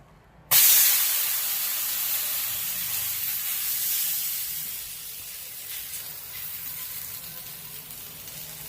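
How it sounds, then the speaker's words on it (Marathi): Thalipeeth flatbread made from fasting bhajani flour sizzles in oil on a hot pan, a steady close hiss that starts abruptly and holds loud throughout, easing slightly toward the end. "आता आपण परत सगळीकडनं तेल टाकूया आणि दुसरं थालपीठ आहे ना ते त्यावर टाकून घेऊया"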